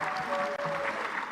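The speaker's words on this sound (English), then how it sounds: "Can I request the Honorable House for a hand of applause to the Honorable Minister" Members of a parliament chamber clap together in a sustained burst of applause during a session, a steady dense patter with a faint tone running through it.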